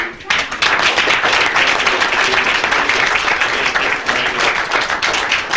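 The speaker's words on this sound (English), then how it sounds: "let's give a round of applause to VFW" An audience at an award ceremony breaks into loud, sustained applause after a short pause, dense clapping filling the room for several seconds.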